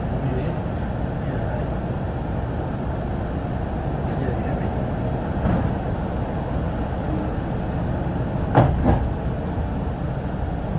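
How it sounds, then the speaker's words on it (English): Steady low rumble of the Atlanta airport SkyTrain people mover rolling and accelerating, with a brief clatter near the end; a recorded voice speaks over it. "Please hold on. This train is departing."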